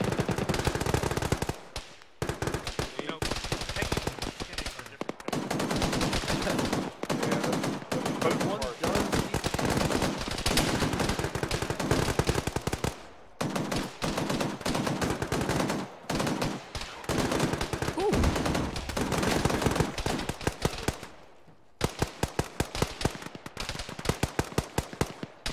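A BTR armored vehicle's heavy machine gun hammers out long, loud automatic bursts in a military video game, pausing briefly between strings of rapid fire, with occasional voices mixed in.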